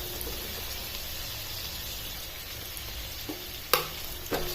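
Onion and dal sauté in a pan over medium to low flame. A soft, continuous frying hiss runs throughout, broken near the end by a few sharp clicks of stirring.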